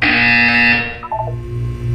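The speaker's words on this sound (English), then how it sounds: "When you hear the buzzer, look down at the floor." A harsh electronic buzzer from the Portal 2 test chamber blares loud and continuous, a flat droning tone that dips briefly midway before sounding again.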